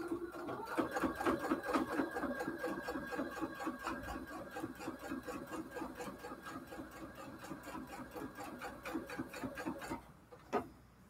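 A sewing machine stitches a cathedral window quilt pillow case, running in a steady, fast mechanical rhythm for about ten seconds before stopping with a final clunk; close and fairly loud.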